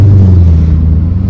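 A 2012 Maserati GT Convertible engine rumbles loudly up close at startup, a deep steady low drone over a brief moment.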